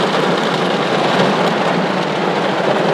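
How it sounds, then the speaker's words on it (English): Heavy rain pours down steadily outside a Walmart store in Florida, a dense, loud hiss of falling water with no voices over it. "currently in Florida it is raining like crazy"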